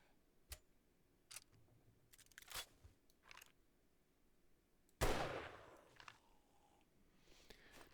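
Gunfire from a gun in a video game: scattered sharp single shots and clicks spread over several seconds, then a louder burst with a ringing tail, all fairly quiet overall.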